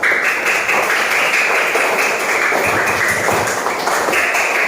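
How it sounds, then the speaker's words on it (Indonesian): Group 1 gets a round of applause in a classroom, dense continuous clapping that stays steady and loud throughout with no voices over it. "tepuk tangan untuk kelompok 1"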